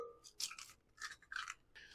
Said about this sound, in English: I'm going to go ahead and break my 2 eggs